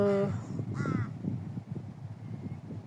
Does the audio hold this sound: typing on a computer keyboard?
no